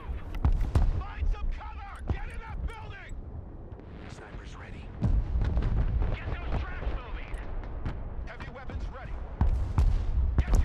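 Large bomb blasts in the real-time strategy game Broken Arrow, a series of heavy booming impacts and rumbling detonations layered with gunfire-like cracks, loud and continuous, with someone talking over them.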